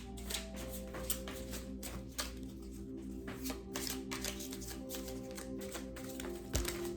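Tarot cards handled and pulled from a deck, with soft shuffling rustles and light taps of cards against one another, close and fairly quiet, no talking.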